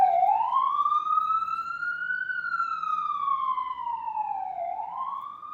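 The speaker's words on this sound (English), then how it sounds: "I heard the ambulance that time." A wailing ambulance siren rises and falls slowly, clear and moderately distant, sounding alone with no talk over it.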